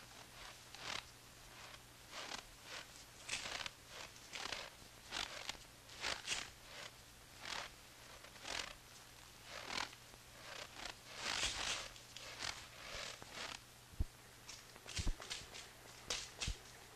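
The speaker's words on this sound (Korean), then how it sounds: "발소리예요." Footsteps in a 1967 Korean film scene, a string of separate, fairly faint steps with soft scuffs and a few sharper knocks, spaced unevenly across a quiet room with a low steady hum and no talk.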